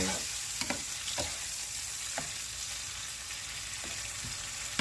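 String beans for adobong sitaw stir-fry in a pan with oyster sauce, soy sauce and garlic powder, giving a constant loud sizzle broken by repeated scraping and clacking strokes of a spatula.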